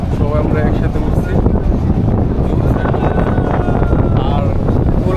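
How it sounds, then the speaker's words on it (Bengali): Strong wind buffets the microphone on an open trawler boat, a loud, constant roaring rush filling the whole stretch with no break. "খোলা আকাশের নিচে যে বাতাসটা আসতেছে"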